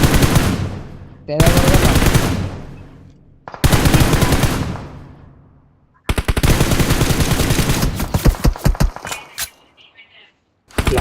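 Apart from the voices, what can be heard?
gunfire in a video game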